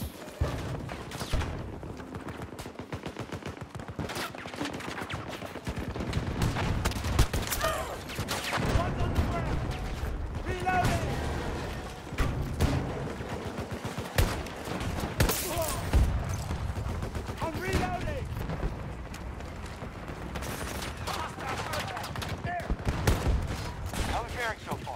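Battlefield 2042 gunfire crackles through a busy game battle, with repeated bursts and volleys of automatic shots at varying distances, and voices calling out in between.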